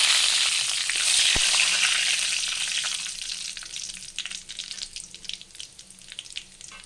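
Garam masala, whole cumin and bay leaves sizzle in hot oil for a soya chunk curry, a steady close hiss that turns into sharper, crackling spits toward the end.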